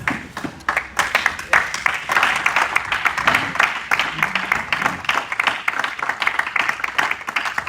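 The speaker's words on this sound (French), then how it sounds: "Est-ce qu'on peut acclamer Jésus en s'asseyant?" A church congregation applauds and cheers, with dense, sustained clapping from many hands and crowd voices mixed in, loud and close for several seconds.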